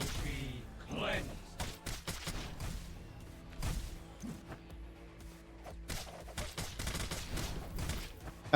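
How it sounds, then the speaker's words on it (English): Rapid volleys of shots from a giant bow in a fast-paced action video game, sharp repeated impacts scattered across the stretch amid game effects, with voices heard throughout. "Those homing shots, though."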